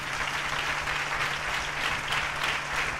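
An audience at a motivational event applauds in a sustained, dense burst of clapping that stays loud and even for the whole stretch, with no voices over it.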